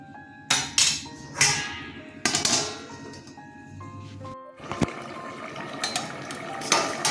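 A metal lid clatters onto a pan of ridge gourd and potato curry, with several sharp clanks and scraping knocks of cookware close by, followed by a quieter bubbling stretch and a few more utensil taps.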